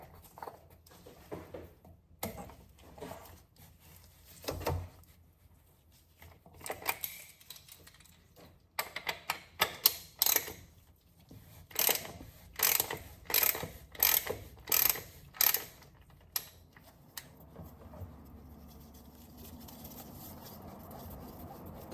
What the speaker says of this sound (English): This is going to require a 74mm 14 flute oil filter wrench.